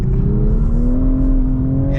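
The engine of a 2024 Toyota GR Supra with a manual gearbox accelerates under load, heard from inside the car as a steady deep drone whose pitch rises slowly over two seconds.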